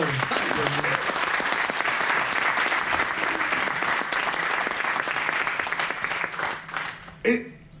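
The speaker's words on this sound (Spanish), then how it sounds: "Denle un aplauso al Señor." Church congregation applauding during a Christmas service at a house of prayer in Arizona: dense, steady clapping for about seven seconds that thins out, with a brief voice near the end.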